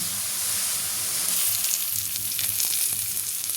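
Chopped onion frying in a pan for a cabbage curry, a loud, close, continuous sizzle with faint stirring scrapes and no talking.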